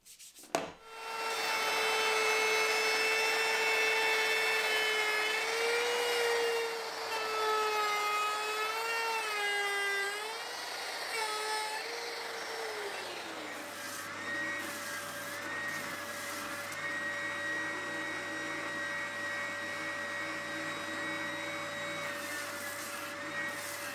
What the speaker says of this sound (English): I just used the router and my one-piece template to get to the final line.